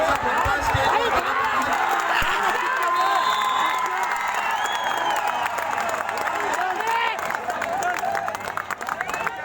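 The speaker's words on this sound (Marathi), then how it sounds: "जोरदार टाळ्या मित्रांनो." A crowd at a kabaddi match claps and cheers in a sustained roar of applause, with an announcer's amplified voice talking over it the whole time.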